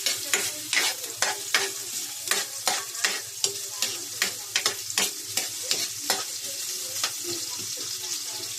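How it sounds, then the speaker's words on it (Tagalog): Ginger sizzles in a pan as it is sautéed, the steady frying hiss broken by a rhythmic series of sharp scraping strokes from a spatula, close and alone. "Unahin natin igigisa yung luya."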